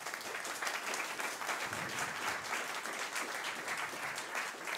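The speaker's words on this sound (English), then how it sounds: "Please give him a warm applause." A conference audience applauds steadily as a talk on the state of Icedove begins, a dense, even wash of clapping from a roomful of people, moderately distant and with no voices over it.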